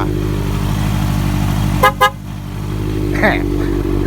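A 2015 Honda CB650F motorcycle idles steadily, then two short horn beeps sound in quick succession, followed by a brief faint squeak.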